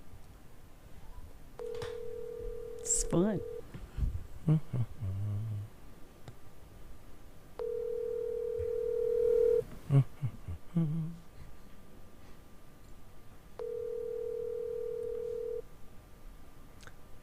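A telephone ringback tone sounds as a steady buzzing ring in three even bursts, each about two seconds long with roughly four-second gaps, close and clear. Brief speech and small handling noises fill the pauses between rings.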